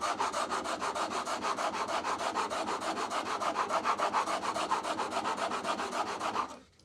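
A plane blade held in a sharpening jig is worked over an oiled sharpening stone in quick, steady back-and-forth strokes, a close, even scraping rasp that carries on for several seconds and then stops abruptly.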